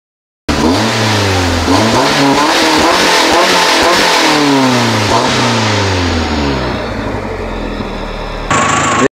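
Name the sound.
car engine running and settling back to idle after repair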